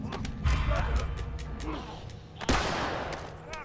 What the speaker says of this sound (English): You guys can't shoot me from that angle.